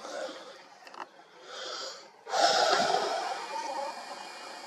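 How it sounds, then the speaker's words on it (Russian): A man out of breath during night-time stargazing with a camera breathes in close, raspy, wheezy pants that grow louder and steadier from the middle onward, without any words. "Аж запыхался, как будто бежал."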